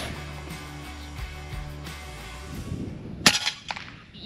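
A single sharp shot rings out from an FX Wildcat MK3 BT Compact air rifle with an FX Impact M3 800mm barrel during a pigeon hunt, a brief crack and clatter after a quiet outdoor stretch.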